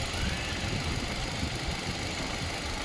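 A 2019 Hyundai Xcent car engine idles close by, a smooth, steady low rumble with light vibration and no variation across the short stretch.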